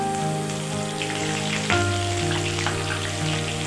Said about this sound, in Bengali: এখানে আমি কড়ার মধ্যে সরষের তেল দিয়ে দিয়েছি। পটলগুলো আমি আগে ভেজে নেব।